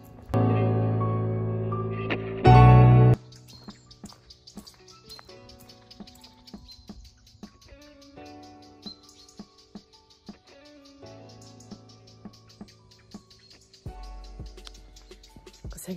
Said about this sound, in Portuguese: Posso literalmente dizer que eu acordei com os passarinhos.